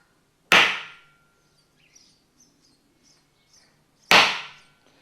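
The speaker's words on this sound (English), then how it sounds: "This is the little centre punch we showed you earlier." Two sharp metallic dings from a spring-loaded centre punch marking a chassis panel, spaced a few seconds apart, each ringing briefly before decaying, with faint chirps in between.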